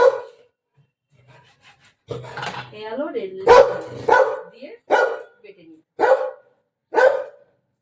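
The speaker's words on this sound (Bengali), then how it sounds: "আমার বাড়িতে যেহেতু ডগি একটু চিৎকার করে" A pet dog at home barks in a run of sharp, loud, separate barks, some close together and some spaced out, mixed in with a person speaking nearby.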